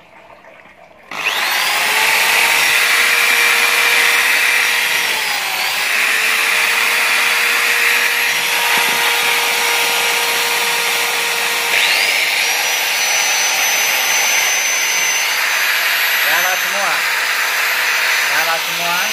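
An angle grinder and a power drill start up together after a brief quiet moment, then run as one loud, steady whine that stays level for the rest of the clip.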